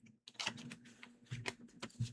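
Tarot cards are shuffled close up in a quick series of soft, papery riffles and taps, irregular bursts over a faint steady hum.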